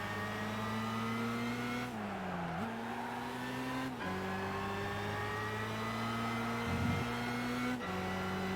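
Mercedes SL 600 engine racing in the Gran Turismo 5 video game, a steady droning tone rising through the gears with brief dips at shifts, close and continuous, with no voices.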